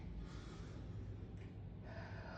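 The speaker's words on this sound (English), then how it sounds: "Breathe in." A deep breath drawn in during a stretching cool-down after a leg workout, one soft, airy inhale that is close but faint, with no talking.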